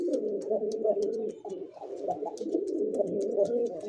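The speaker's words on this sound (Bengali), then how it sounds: "দেখেন কবুতর ডাক দেখছেন" Pigeons at a pigeon market, including racing and fancy breeds such as Lahori and Giribaz, cooing steadily in soft overlapping calls throughout, with a few brief higher chirps above.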